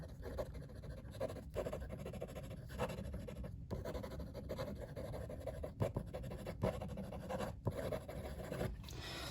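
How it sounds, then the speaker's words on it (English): A Kaweco Student fountain pen writing quickly on paper, its nib giving a soft, continuous scratch with short pauses between strokes, close and quiet. "This is just some quick writing."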